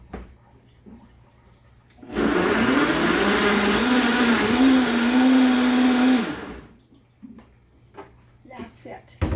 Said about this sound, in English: we'll get the first of the tomatoes pureed.